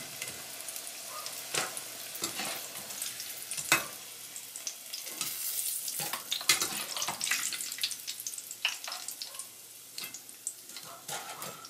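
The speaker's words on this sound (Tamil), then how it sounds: "இதே மாதிரி எல்லாத்தையும் பொறிச்சு எடுப்பேன்." Cuttlefish calamari fries in butter in a pan, a continuous close sizzle broken by scattered clinks and scrapes of stirring, with no speech.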